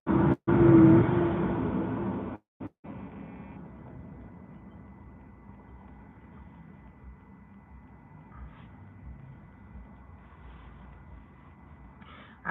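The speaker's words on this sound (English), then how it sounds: "You guys hear this truck? This truck is humongous." Large truck driving past outdoors, a loud rumbling pass in the opening seconds that fades into a steady low traffic hum over the rest of the clip.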